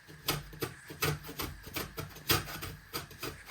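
An orange is rubbed up and down over a kitchen grater for zest, giving a quick regular series of short rasping scrapes, close and moderately quiet with no talking.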